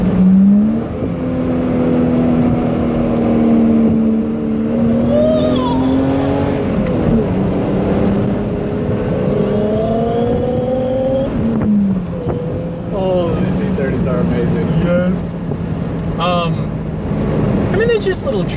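A BMW E30 engine revs and winds through corners on a drive with a downshift, its steady droning tone rising and falling in pitch, close and loud throughout, with a person talking excitedly over it.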